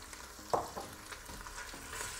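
Chopped onion being stirred in a pressure cooker for beef and onions, soft sizzling frying with a few scraping stirs of a utensil against the pot, quiet and close.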